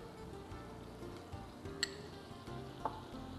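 Browned meat sizzling and frying steadily in a pan as chopped onion is stirred in, with a continuous low crackle and a couple of sharp metallic ticks from the utensil.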